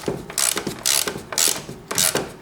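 Ratchet wrench with a 10mm socket tightening a car battery hold-down bolt on a Toyota RAV4, several short bursts of quick clicking ratchet strokes, close and loud with brief pauses between.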